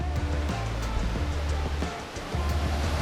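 A narrow stretch of the Mandeo river near Betanzos, A Coruña, with water rushing through a gap only a metre or so wide, giving a steady broadband roar with a brief dip in the middle.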